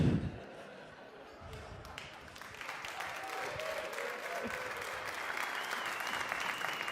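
At a variety show in downtown Brooklyn, scattered clapping grows into moderate applause for the stage assistants, with a few thumps and a faint whistle or cheer in the crowd.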